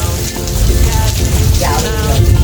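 Heavy rain falls outdoors in a windy storm as a loud, dense, continuous hiss of drops striking surfaces, close and steady throughout.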